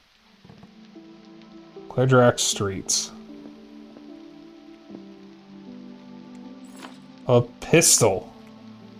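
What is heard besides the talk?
rain in a King's Field-like video game demo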